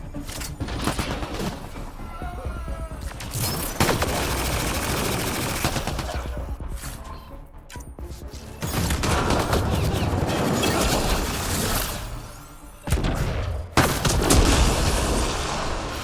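Sustained automatic gunfire and heavy booming impacts in Mass Effect: Andromeda, loud and continuous with short lulls between volleys, and a brief voice heard over the battle.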